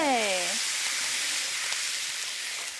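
Chili seasonings stir-frying in oil, including scallion, ginger, garlic, dried chilies, Sichuan peppercorns, spicy sauce, doubanjiang and chili powder, giving a steady, bright sizzle that holds loud and constant after a short tonal sweep at the start.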